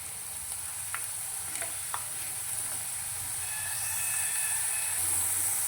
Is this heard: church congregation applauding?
no